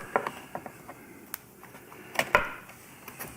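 Screwdriver prying plastic fairing clips loose on a Harley-Davidson Road Glide inner fairing, giving a few close, sharp clicks and snaps scattered over a quiet background.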